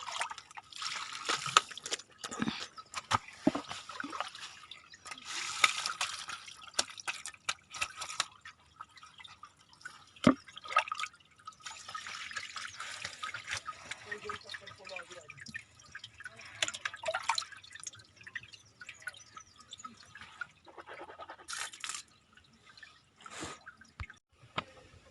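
Water from a natural spring drips and trickles into a small pond, quiet irregular drops and splashes close by with no voices.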